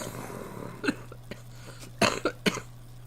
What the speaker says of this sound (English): Sorry, like I said, I have a cough.